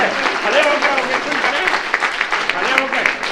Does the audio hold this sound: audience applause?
yes